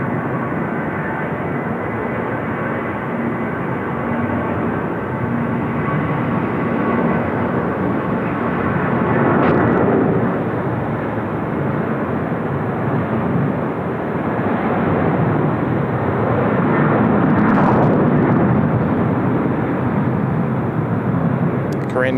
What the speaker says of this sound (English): Korean 951 off to Dubai, hence the much longer takeoff roll there.